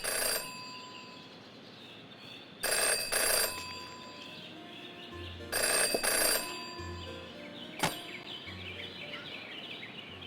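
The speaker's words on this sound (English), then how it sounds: "Jenny had learned never to ignore a ringing phone." An old-fashioned bell telephone ringing in the video game Jenny LeClue, three loud bursts of trilling rings spaced a few seconds apart, with a sharp click and quieter ambient game sounds between them.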